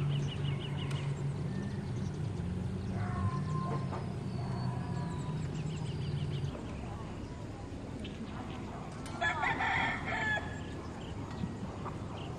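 Roosters crow and hens cluck amid other bird calls on a morning campsite at Mapanuepe Lake, Zambales, with a steady low hum and a burst of chirping near the end.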